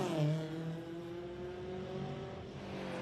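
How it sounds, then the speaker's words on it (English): A Ford Escort Mark 1 race car with a four-cylinder engine screams at a sprint event, holding a high steady pitch that bends slightly as it passes close by, loud and continuous with no talk. "one of our Ford Escorts screaming its way. Those screaming four-cylinder Escort race engines"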